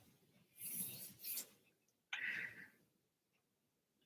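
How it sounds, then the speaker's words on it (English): A dog snores with its head resting on a tile floor, giving two faint, raspy breaths about a second apart in an otherwise quiet room. "That's my dog in the background snoring"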